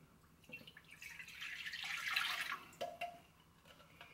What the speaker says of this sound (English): 16 ounces cool tap water.